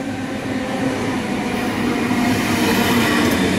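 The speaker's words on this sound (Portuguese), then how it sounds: "O trem está chegando." A commuter train pulls into a Sydney railway station, a steady loud rumble of wheels and carriages with faint squeals, close by and building slightly, with no talking.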